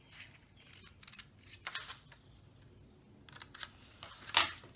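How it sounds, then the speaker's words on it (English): Scissors snip through paper while strips are cut for a pop-up card, a quiet scattering of short crisp cuts with one sharper snip near the end, set against a soft low room hum. "I'm just gonna cut this out first."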